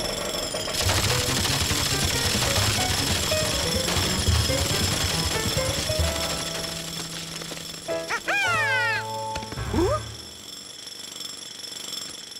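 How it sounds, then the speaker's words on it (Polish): In a cartoon construction scene, a jackhammer pounds away loudly in a rapid continuous rattle, then stops; afterward a dog barks and yips a few times. "Wyłączę młot pneumatyczny."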